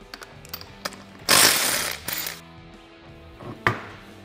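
Ratchet and tool clatter while the rear wheel of a CF Moto ZForce 1000 side-by-side is removed, with scattered close clicks, a loud hissing burst lasting about a second, and a sharp metallic knock near the end.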